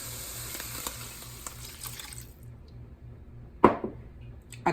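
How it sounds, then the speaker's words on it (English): Water poured into a hot skillet of cooked ground beef, a quiet steady sizzle that erupts into a sharp hiss and splash partway through, then settles into faint simmering. "Now I'm going to add a cup of water"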